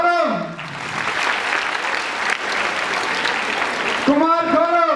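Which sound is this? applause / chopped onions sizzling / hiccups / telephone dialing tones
applause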